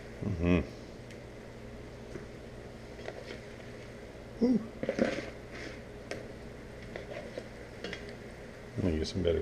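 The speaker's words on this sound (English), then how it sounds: "Let me get some better cooking bowls." Cooking bowls being handled in a kitchen after chicken is drained, giving a few short clunks and clatters at the start, middle and end over a quiet room hum.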